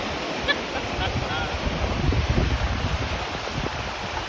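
Cold river water rushing through a canyon along the road to Whitehorse in the Yukon, a steady broadband roar with gusty wind buffeting the microphone.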